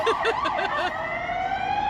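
An emergency vehicle siren wails loud and close, its pitch sweeping up and down quickly at first, then settling into a long, steady tone that slowly drifts downward.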